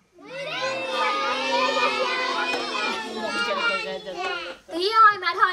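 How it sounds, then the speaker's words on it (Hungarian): A group of children shout their names loudly all at once, a sustained chorus of high overlapping voices that tapers off, followed by a few scattered cries. "Háromra kiabáljátok hangosan a neveteket, jó?"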